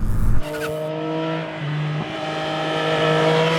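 A Honda Monkey mini bike engine drones steadily at highway speed, its buzzing tone shifting slightly, with heavy wind rush at the start, close and loud with no talking.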